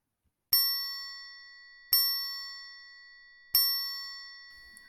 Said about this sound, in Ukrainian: це музичний трикутник. Ось послухайте, як він звучить